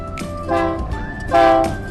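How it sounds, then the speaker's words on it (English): A Union Pacific freight train, likely hauling grain along a highway across open plains, sounds a loud horn in two strong blasts over a rumbling rail bed, close and alone with no talk. "The highway runs parallel to the Union Pacific Railroad, typically hauling grain from farms near small towns like this one."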